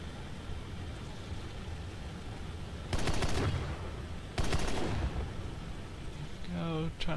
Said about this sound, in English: fire the guns to help me slow down even further